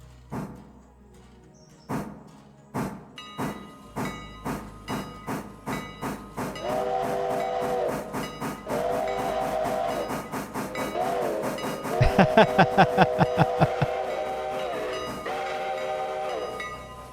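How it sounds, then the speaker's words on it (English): Train-simulator locomotive approaching a level crossing: rhythmic clacking of wheels over rail joints quickens, then a loud, sustained whistle sounds in repeated long blasts over the rumbling passage, with a sharper burst midway. "AI is now using whistle every single time it goes over that crossing"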